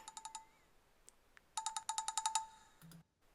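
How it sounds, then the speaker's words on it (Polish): Quick bursts of high electronic beeps in a rapid repeating pattern, a pause, then a longer run of chirpy beeps from a Garmin Venu 2 Plus smartwatch alarm, fairly quiet. "a taki oto przyjemny dźwięk został dołożony do funkcji budzika."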